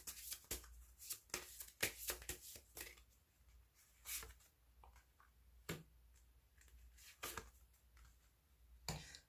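Tarot-style cards are shuffled and snapped in a quick run of crisp riffles and taps, close and fairly quiet, with short pauses between bursts.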